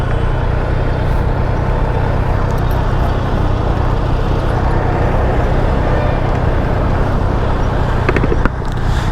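A Triumph Street Triple RS 765 motorcycle, carbon edition, drones steadily while riding. Its exhaust and engine blend with rushing wind into one loud, unbroken roar with no clear revs or gear changes.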